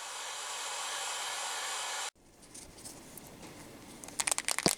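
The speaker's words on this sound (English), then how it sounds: "Even though this is a hot air gun, the temperature is really low to minimize the risk of damaging the painted surface." A low-temperature hot air gun blows on primer over a stone chip repair in the paint of a BMW E46 Coupe. A steady loud whoosh stops abruptly after two seconds, followed by faint rustling and light tapping.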